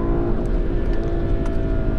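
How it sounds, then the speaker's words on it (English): A VW MK7 GTI with a Cobb DSG tune revs steadily against its rev limiter, a loud, constant droning engine note heard from inside the car, with no talk over it. "So you'll actually hit the rev limiter."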